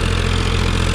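Powertrac Euro 50 tractor engine idling close by, a loud, steady low rumble with even, rapid pulsing throughout.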